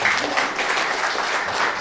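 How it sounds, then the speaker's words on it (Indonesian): A church congregation at a Christmas service claps together for God, a dense, steady wash of applause from many hands filling the room without pause. "Yang setuju tepuk tangan bagi Allah."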